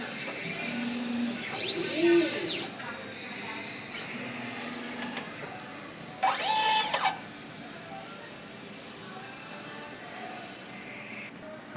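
A printer runs a nozzle check after a head clean and wiper wipe, giving moderate mechanical whirring with rising and falling swept tones in a few separate bursts over a quieter room hum, with some talk in the background.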